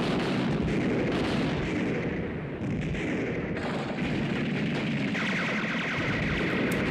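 Continuous battle noise plays from a Patton (1970) war film scene, with heavy rolling artillery booms and explosions packed into a dense, loud roar. It fills the whole span without a pause.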